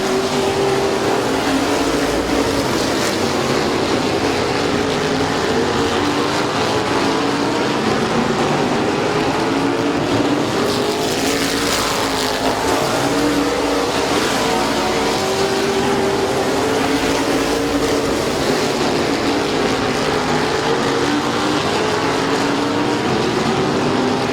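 Race cars battling at Midvale Speedway, a dense, unbroken engine roar with swelling passes as the pack goes by, loud and close from the track side.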